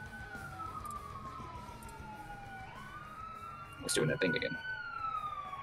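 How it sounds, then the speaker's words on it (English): Police siren wailing in rising and falling sweeps, moderately distant and continuous, with people talking over it briefly. "is that siren part of the music or not?"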